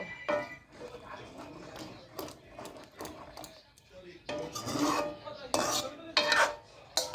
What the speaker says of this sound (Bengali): এখন আমি ডালটা একটু অল্প অল্প নাড়া দিচ্ছি